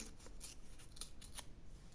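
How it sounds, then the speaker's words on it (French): Scissors snip through a scrap of paper in a quiet indoor art-journaling session, several short crisp cuts spaced across two seconds, close and clear with no talk. "Je vais le couper en deux."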